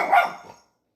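A dog gives a single short, sharp bark close by, loud at first and quickly fading to silence.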